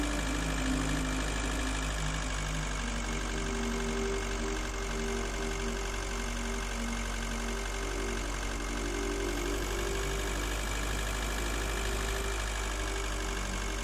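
A space car engine running steadily in the game Breathedge, a continuous loud droning hum with a low rumbling base and faint tonal whine, unchanging throughout.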